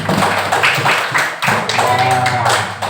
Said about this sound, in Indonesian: kasih tepuk tangan untuk kelompok 4